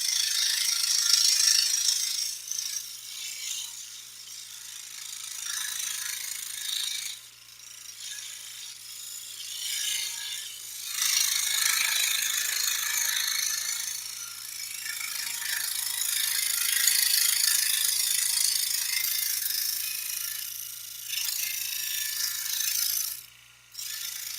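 A scroll saw cuts wood steadily for a long stretch, giving a continuous fast buzzing rasp with a few short pauses and restarts, close by and with no talking.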